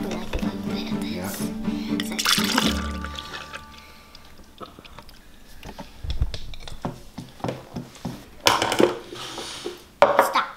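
Milk is poured and pink food dye is added in a kitchen, with splashing liquid and clinking of dishes and utensils, and voices talking over it.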